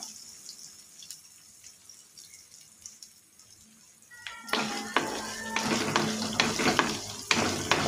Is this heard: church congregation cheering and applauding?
no